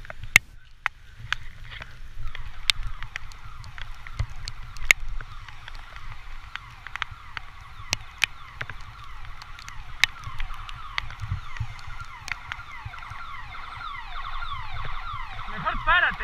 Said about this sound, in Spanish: Yo ya vi que ya viene una ambulancia.